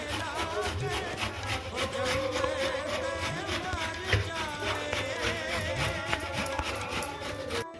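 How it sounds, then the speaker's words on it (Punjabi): Carrots grated by hand on a kitchen grater for gajar barfi, a steady rhythmic scraping repeated over and over, close and fairly loud with household background noise. "ਇਸ ਤਰ੍ਹਾਂ ਅਸੀਂ ਕੱਦੂਕਸ਼ ਕਰਾਂਗੇ"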